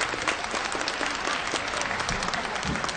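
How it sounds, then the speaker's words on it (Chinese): Aerospace staff at a rocket launch site applaud during the maiden flight of a large new Long March 5 rocket, a steady wash of clapping from many hands lasting throughout, dense and fairly close with no talk. "在现场我们看航天人那种激动的鼓掌"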